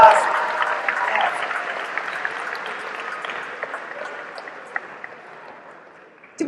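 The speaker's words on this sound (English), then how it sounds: "Give them a round of applause." An audience at a university homecoming convocation applauds its retirees, a dense burst of clapping that starts loud and gradually tapers to scattered claps, with a few cheers mixed in.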